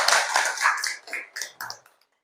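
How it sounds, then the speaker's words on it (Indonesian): Brief round of classroom applause for a student group, a burst of hand claps from a small class that fades out within about two seconds. "kasih tepuk tangan untuk kelompok 3"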